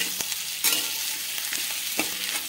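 Onions stir-fried in a pan over a high flame give off a close, steady sizzle, broken by a few louder scraping stirs across the two and a half seconds.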